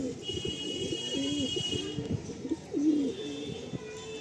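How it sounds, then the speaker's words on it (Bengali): Madrasi pigeons cooing nearby in soft, repeated throaty calls over a faint background hum. "কত সুন্দর পায়রা দেখুন"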